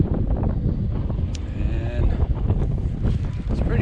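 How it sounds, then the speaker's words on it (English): Strong gusts buffet the microphone beside a lake below a small dam, a loud, continuous rumble with roaring surges and faint background sounds. "Pretty windy right now."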